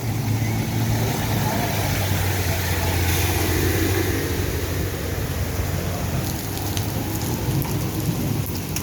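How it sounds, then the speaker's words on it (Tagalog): Heavy afternoon rain in the UAE pours down steadily, a dense loud hiss of drops on surfaces, with a faint rumble underneath throughout. "sobrang lakas ng ulan dito guys"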